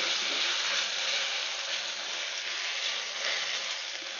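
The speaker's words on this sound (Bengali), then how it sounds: "আর একটু ভেজে নিচ্ছি যাতে চারপাশটায় এরকম রং ধরে যায়" Eggplant slices frying in a pan, a continuous even hiss of oil close by with no pauses and no voices.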